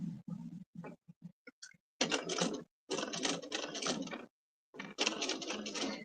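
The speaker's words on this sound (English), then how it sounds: "we're going to get this under the machine and sew our line down" A sewing machine stitches a line on a fabric table runner in several bursts, first in short stop-start taps, then in longer steady runs of close, loud mechanical chatter separated by brief silences.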